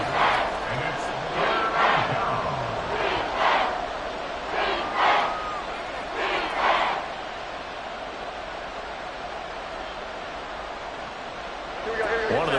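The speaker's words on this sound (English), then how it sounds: "the crowd getting into it as we come up on a big 3rd down" Stadium crowd noise swells and cheers in waves during a Madden NFL 24 football game before a big third down, roaring loud at first then settling into a steady murmur, with commentary-like voices mixed in.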